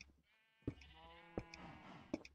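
A llama in Minecraft gives a drawn-out bleating cry that wavers, with three sharp clicks spaced through it, heard alone and fairly faint.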